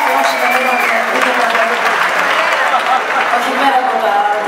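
Concert audience applauding a live Greek singer's performance at Akti Peiraios, a dense, steady wash of clapping that fills the whole stretch, with crowd voices mixed in.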